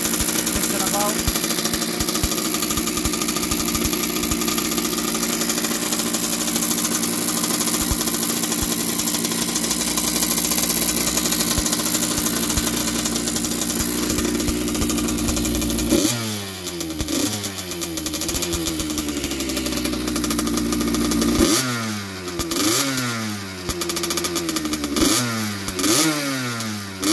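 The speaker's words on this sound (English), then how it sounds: "Motor sounds pretty good." A 1982 Yamaha YZ80J motorcycle engine runs close by, first at a steady idle and then with repeated rising revs, while people talk over it.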